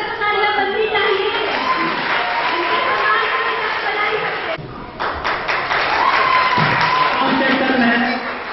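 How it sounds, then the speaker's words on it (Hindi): Audience clapping at an Independence Day prize-giving programme at DIET Rambagh, Muzaffarpur, a steady crowd of claps mixed with loud voices and music over a public address, with a brief dip midway before the clapping resumes. "जब तक सबको पुरस्कार मिला तब तक तालियां बजनी चाहिए।"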